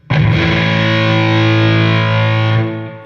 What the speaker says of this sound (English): This one here is a Jim Dunlop fuzz face, which was basically one of the original fuzzes.